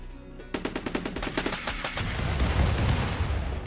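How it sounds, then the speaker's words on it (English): Rapid machine gun bursts and gunfire during a sapper raid in the RimWorld video game, a fast rattling volley that gives way to a dense roar of overlapping shots and explosions, loud and with no voices. "Combination of our grenade launchers, our machine gun fire, and our 9mm flak cannon"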